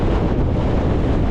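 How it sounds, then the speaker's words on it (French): A strong headwind buffets the microphone on a mountain ride on an electric-assist mountain bike, a loud, constant roaring rumble with no talk over it. "j'ai le vent de face, ça souffle là"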